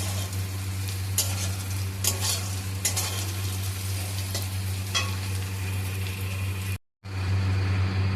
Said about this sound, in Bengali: এবার ভালো করে নাড়াচাড়া করে ভেজে নিতে হবে